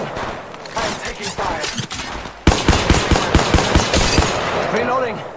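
Weapon fire in the mobile shooter Apex Legends Mobile starts as muffled, busy shooting, then turns into loud, close bursts of evenly spaced automatic shots over other game effects.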